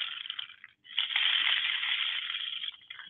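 Rice and dried beans cascade through a homemade rain stick tipped back and forth, a dense, steady rushing patter with a brief pause partway as the tube is turned, then swelling again.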